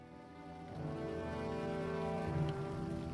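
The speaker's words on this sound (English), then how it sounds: "Ah, here comes the rain." Steady rain falls in the fantasy game The Lord of the Rings Online near the churning water of the Horwell, a dense continuous patter that swells louder after the first second and holds alongside faint game music.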